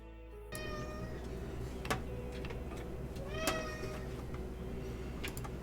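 Several cats meow indoors, a few distinct mews rising over a steady low room hum, fairly quiet and with no talking.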